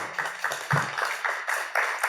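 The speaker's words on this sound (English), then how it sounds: "I got applause" An audience at a business conference claps, a quiet, regular run of sharp claps at a quick, even pace, roughly four per second, with no talking over it.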